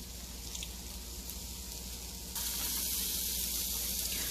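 Onion, salt and spices sizzling steadily in a hot pan while being stirred and roasted, a continuous hiss that swells noticeably louder partway through, close and without talk.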